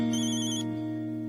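A mobile phone plays an electronic ringtone, a short bright melodic tone that rings loud and clear on its own.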